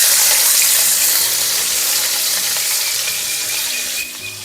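Chopped onions hit hot oil seasoned with five-spice tempering and sizzle loudly in a pan, a dense, hissing crackle that eases slightly near the end, close and without talk, as ridge gourd curry is cooked.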